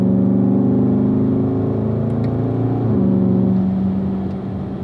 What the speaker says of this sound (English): make that downshift.